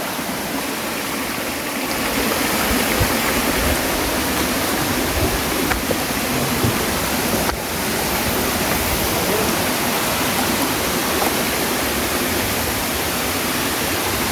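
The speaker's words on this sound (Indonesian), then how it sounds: "air terjun indah banget guys kalau jam segini" Steady, full roar of the Kedung Gender waterfall in Kudus, Indonesia, rushing water filling the whole clip at constant loudness with no voices.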